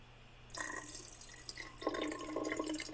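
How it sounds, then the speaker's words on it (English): Water is poured into a very thick mixture, a steady splashing trickle that starts abruptly and continues to the end, moderately close and without voices. "We're gonna need some water, friends. A lot of water."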